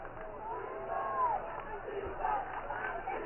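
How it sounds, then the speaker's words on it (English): Crowd noise from spectators at a high school football game between Braintree and Weymouth, swelling into cheers and shouts behind the defense on fourth down, a steady roar at moderate distance. "The crowd trying to rile up their defense as Braintree will hike this one."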